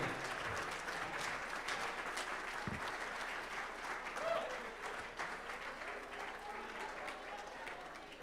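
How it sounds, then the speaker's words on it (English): A large crowd applauds steadily, a dense sustained wash of clapping with a few cheers mixed in, continuing without pause. "let's give everybody a round of applause"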